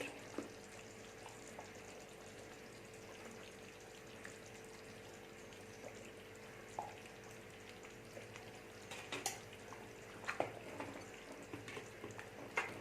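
Big pieces of tuna curry (soorai meen kuzhambu, Nagai style) simmer in a pot, giving a soft, steady bubbling sizzle with occasional faint pops and clicks. No voices.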